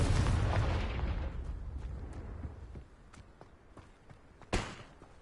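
A Confringo blasting spell goes off in Hogwarts Legacy with a loud, booming explosion that rumbles and fades over several seconds, then a second sharp blast bursts out near the end amid scattered smaller pops.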